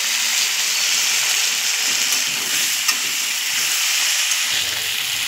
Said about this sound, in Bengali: পেঁয়াজ মরিচ ভাজা হয়ে গেছে, এখন দিয়ে দেবো সবজিগুলো